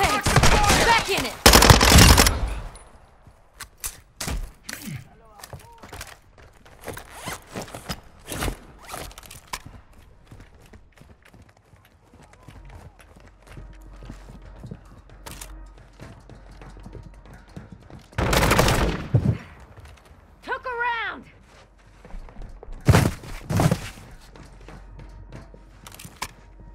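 Gunfire in Call of Duty Modern Warfare 2 DMZ, scattered bursts and single shots spread over a long stretch, some loud and close, others quieter, with footsteps and gear rustle in the gaps and a voice briefly calling out.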